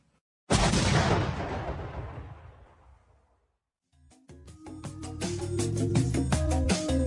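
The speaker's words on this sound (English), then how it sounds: "Love hearing that explosion." A loud, sudden explosion booms and slowly fades, followed by a rising roar of crackling, rumbling noise.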